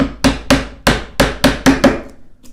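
A chisel is struck again and again with a mallet to cut a mortise in wood, giving about eight sharp, loud, close knocks at a fairly even pace with no talking.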